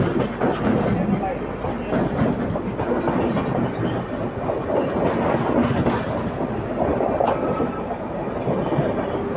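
A Gujarat double-decker express train running from Ahmedabad to Mumbai Central passes with a continuous rumbling roar and rhythmic clickety-clack of wheels, steady and fairly close throughout.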